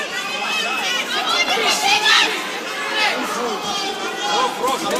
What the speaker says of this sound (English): I'm loving how the loudest crowd support is always straight behind us.